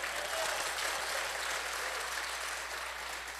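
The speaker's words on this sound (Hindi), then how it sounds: "उससे पहले तालियां बजा लें तो मेरा हौसला बढ़ेगा।" Steady, dense applause from a mushaira audience at an Urdu poetry festival in Riyadh, continuous and even in loudness for the whole stretch with no voices over it.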